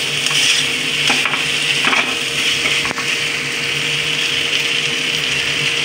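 Fried potatoes and fried egg are stirred into sizzling masala in a pan, with continuous loud frying hiss and repeated scraping strokes of the spoon, close up and without talk.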